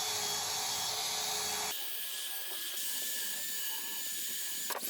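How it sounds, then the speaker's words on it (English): A harsh, steady high-pitched grinding whir of a wire brush attachment on a drill cleaning decayed wood, loud and continuous, with a shift in tone partway through. "I used a wire brush attachment on my drill to clean off some of the decayed wood"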